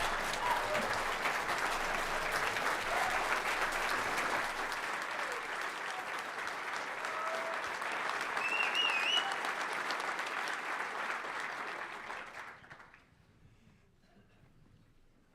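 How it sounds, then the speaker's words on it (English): Sustained audience applause at a political summit, a dense, even wash of many hands clapping from a distance that holds steady for about twelve seconds, then fades quickly to near silence. "I'm really glad to see the judge get that level of applause"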